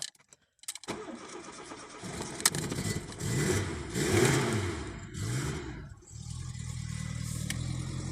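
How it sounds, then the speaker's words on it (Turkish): A Tofaş car started in cold weather: the starter cranks briefly, then the engine catches and revs up and down unevenly before settling into a steady idle, heard close and alone. "Önce gaz pedalımıza 4-5 defa pompalıyoruz. Ardından da marşa basıyoruz"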